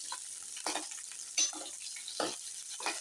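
Okra sautéing in sesame oil for a ladies finger curry, a steady sizzle broken by occasional louder stirring scrapes in the pan, close and alone with no talk.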